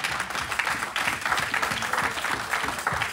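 A church congregation applauds steadily at an evening service acclaiming Jesus, with dense, continuous clapping holding an even level for the whole stretch and no one speaking.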